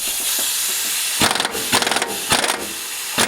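A compressed-air impact tool works the 32 mm nut on a Briggs 22hp flywheel, firing in four loud, rattling hammering bursts over a steady hiss.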